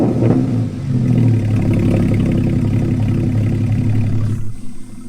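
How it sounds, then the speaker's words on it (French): A Porsche 981 Cayman GT4 fitted with a non-stock exhaust revs hard, a loud, sustained engine roar that holds steady for several seconds, then cuts off abruptly near the end. "On va maintenant profiter de la sonorité et des performances de ce Caïman GT4."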